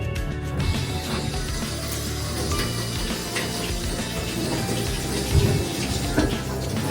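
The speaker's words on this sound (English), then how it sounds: "So now I'm gonna rinse it off." Running water rinses a cleaned deer or game skull being prepared for a European mount, a steady broadband splash like a tap or hose flowing continuously at close range with a few louder bursts near the end.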